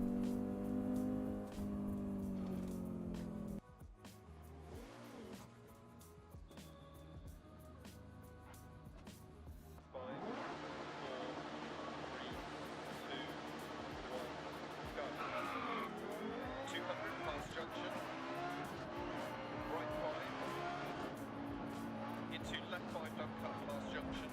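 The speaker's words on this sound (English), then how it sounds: "We're now in Dirt Rally, driving the rally version of the Audi Sport Quattro." Rally Audi Sport Quattro driven in Dirt Rally, engine revving up and down through gear changes with tire skids on loose surfaces, loud and continuous, with a voice speaking over the driving.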